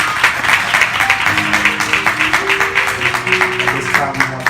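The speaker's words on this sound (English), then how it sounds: "let's clap our hands" Guests at a marriage vow renewal clap their hands together in a steady, dense patter, with voices carrying over the clapping throughout.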